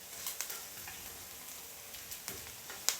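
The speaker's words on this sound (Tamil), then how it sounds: "இதோட ஒரு கட்டு கருவேப்பமில எல்லாம் சேர்ந்து ஓரளவு வதங்கி வர" Curry leaves and onions sautéing in a pan for Tamil egg curry, a soft steady sizzle with a few light stirring clicks and scrapes, fairly quiet throughout.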